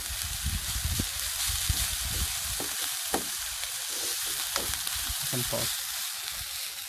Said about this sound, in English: the onions is slightly sweating, so it's still clear